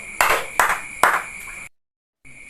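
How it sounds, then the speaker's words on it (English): Three sharp group claps from a class in a classroom, evenly spaced and loud, each with a bright ringing tail, followed by a brief silence and then faint room noise. "Let's give 3 claps for the group 1 and also for the group 2."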